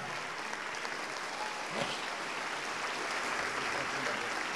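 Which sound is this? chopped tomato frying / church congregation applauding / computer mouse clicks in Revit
church congregation applauding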